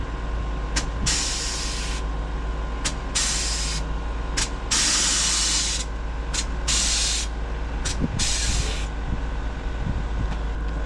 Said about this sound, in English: the tank only has so much stored air in it, so you could then drop it, get the car on the floor pretty quickly